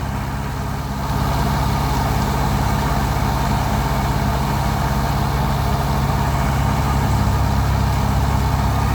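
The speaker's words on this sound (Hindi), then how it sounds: "कितनी रेस में ट्रैक्टर चल रहा है।" A tractor engine runs steadily at high revs while powering a thresher on a farm, a loud, continuous low drone with a rhythmic pulsing from the machinery.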